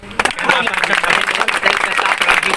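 A crowd at an election rally in Bihar claps loudly and continuously, a dense close burst of applause with a voice talking over it.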